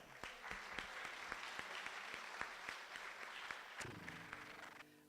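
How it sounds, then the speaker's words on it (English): An audience at a Rotary Club senior talent show claps steadily in a dense patter, with a few louder claps standing out, before the applause fades as a musical tone comes in. "So let's give a round of applause for Rod Lopez."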